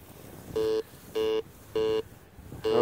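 An OMMO metal detector gives four steady electronic beeps at an even pace, each about a quarter second long, over a faint background hiss.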